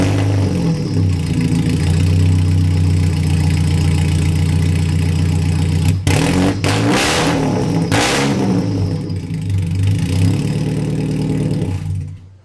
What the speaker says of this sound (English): So I'm going to go ahead and start it up so you guys can hear what we're working with